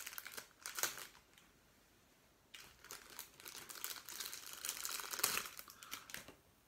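Wrapper of a Japanese Pokémon card booster pack being torn and crinkled open by hand at close range, two bursts of crisp crackling separated by a short pause, fairly quiet with no talking.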